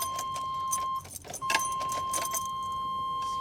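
A bunch of keys jangles at the ignition of a cheap government surplus auction vehicle, with metallic clinks in short bursts over a steady electronic chime tone close by.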